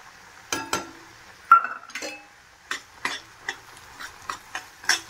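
A bowl of semolina goes into a pan of swollen raisins and is stirred, producing close, sharp clinks and scraping taps of a spoon against the pan at an irregular rhythm, with no voices.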